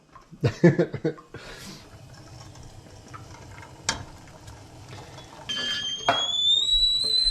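A kettle's high, steady whistle rises and holds over the last seconds as water boils, following a few clattering knocks and kitchen noises.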